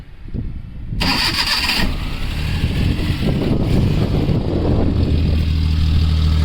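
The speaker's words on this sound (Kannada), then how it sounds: "ಒಂದ್ಸಲಿ ಸ್ಟಾರ್ಟ್ ಮಾಡಿ ತೋರಿಸ್ತೀನಿ ಗಾಡಿ ಹೇಗಿದೆ ಅಂತ." A 2009 Maruti Omni van engine cranks and fires up, then settles into a loud, steady rumbling idle close by.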